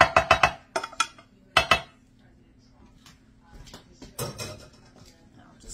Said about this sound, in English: I'm gonna dump both cups of those, or all of it, right into my pan